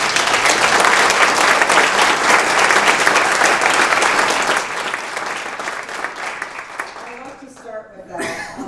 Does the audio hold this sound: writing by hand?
no